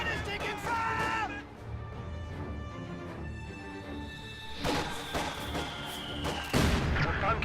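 Gunfire and artillery crack and boom in a strategy video game battle, with scattered shots and a heavy blast near the end, under steady game voice announcements and talk.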